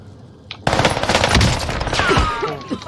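Rapid automatic gunfire erupts in a video game after a brief quiet, a loud close burst of shots rattling for about two seconds before tapering into scattered pops.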